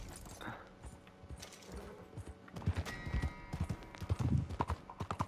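Horse hooves clip-clop in Red Dead Redemption 2, starting faint and growing into louder, quick rhythmic thuds toward the end, with some mechanical clicking mixed in.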